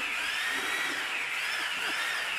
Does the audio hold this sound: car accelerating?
no